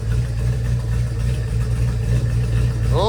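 A 1972 Dodge Charger engine running on its own power at a steady, loud idle, with a continuous low rumble throughout and no voices.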